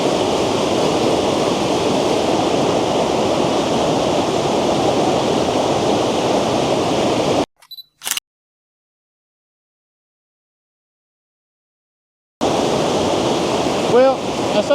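A waterfall's rushing water, a loud continuous broadband roar close by, cut to silence midway before resuming.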